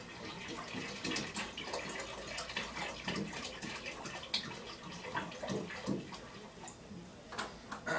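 Extract is poured into a pot of thick, sugary syrup, giving a steady trickling, splashing liquid sound with small ticks and clinks throughout, close and moderately quiet.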